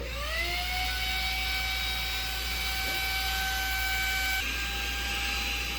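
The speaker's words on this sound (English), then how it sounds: "And I'm going to go ahead and start vacuuming it" A small portable vacuum cleaner spins up with a rising whine and then runs at a steady high-pitched drone while sucking air from a packing bag, close and constant, with a slight shift in tone near the end.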